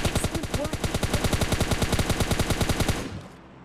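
Rapid automatic gunfire from PUBG Mobile Lite, a steady burst of about thirty evenly spaced shots over three seconds, loud and close, cutting off abruptly near the end with no talk.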